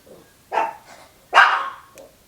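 Pet dogs barking indoors at home, two loud sharp barks about a second apart with a fainter yelp at the end, close and alone with no talk.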